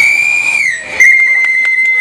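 A conductor's whistle is blown to dispatch a train, a crocheted locomotive display in a shopping centre, giving one long shrill steady blast that briefly dips then resumes loud and close, with faint voices underneath.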